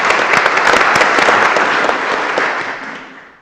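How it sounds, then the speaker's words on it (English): Applause at a city commission meeting, a roomful of hands clapping densely and loudly from the start, then tapering off toward the end. "if you would please give a round of applause for such a worthy"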